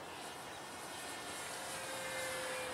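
An RC model Spitfire MK5 airplane at full throttle: a steady, distant, buzzing electric motor drone with a thin high whine, holding even throughout.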